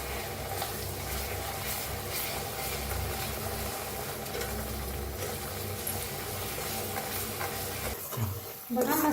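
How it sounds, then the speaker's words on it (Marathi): Onion and coconut masala roasts in a pan with a soft, steady sizzle under a continuous low hum, with a brief clatter near the end. "बघा मस्त असा भाजायला लागलाय मसाला आपला"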